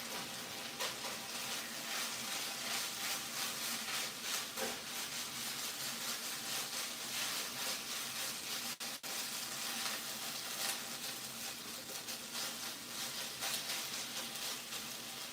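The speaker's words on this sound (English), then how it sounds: "Let me stir my filling." Steady scraping and soft sizzling as a sautéed coconut filling for Khmer Num Kome dessert is stirred in a pan, continuous and close with no talking.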